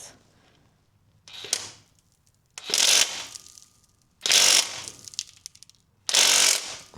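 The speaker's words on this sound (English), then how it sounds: "we're just about to free off the very first gearbox bolt" Ratchet clicking in short bursts as a wrench works to free the first gearbox bolt on an MGF, with the engine hoist nearby. Four loud, separate spells of rapid clicks with quiet gaps between them.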